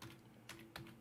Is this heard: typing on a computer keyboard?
yes